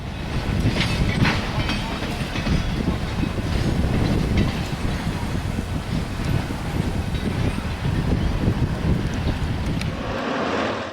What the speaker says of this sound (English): San Francisco Chief Train Number 2 leaves Richmond with private car Cyrus K. Holliday bringing up the markers